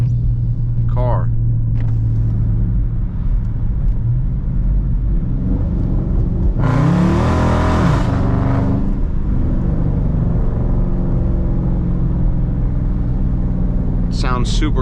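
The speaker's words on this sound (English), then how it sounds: "let's go ahead and get a little sound clip real quick of the car" A 2019 Dodge Charger R/T V8 engine roars through a loud rev burst of about a second and a half, set against a steady low idle rumble that runs throughout, with fences nearby.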